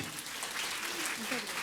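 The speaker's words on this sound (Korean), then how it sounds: "박수" Applause from a church congregation, a dense, even wash of many hands clapping that sounds fairly distant and stays steady throughout, with faint voices underneath.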